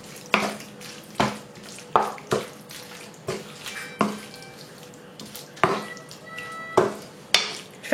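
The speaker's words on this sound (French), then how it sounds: "Là, je vais rajouter la sauce samouraï. Et je vais bien mélanger." Chicken and mushroom filling mixed with samurai sauce in a pan: a series of wet, squelching stir strokes, close and fairly loud, repeating in a steady rhythm about once a second with no talking.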